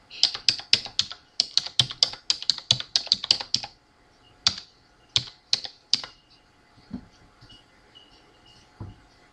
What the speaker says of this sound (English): start typing what you would like to write